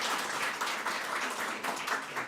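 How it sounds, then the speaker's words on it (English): A graduation ceremony audience applauds, a steady, moderately distant wash of many hands clapping together with no voices over it. "round of applause"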